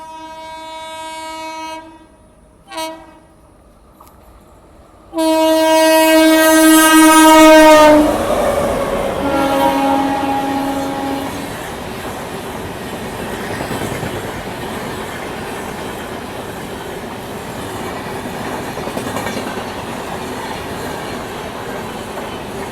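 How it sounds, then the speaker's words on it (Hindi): The Purva Express passenger train arrives, blaring a long loud horn in a few short blasts and then a sustained note, followed by the rushing roar and clatter of the carriages passing close by. "पूर्वा एक्सप्रेस दोस्तों, पूर्वा एक्सप्रेस आ गई।"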